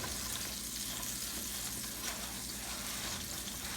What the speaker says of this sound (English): We're just going to throw the rest of that butter that we didn't use inside of here